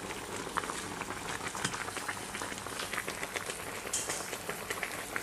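Vine leaves go into a pot of boiling water after washing, giving a soft, steady bubbling and pattering hiss that stays faint and continuous throughout, with no talking.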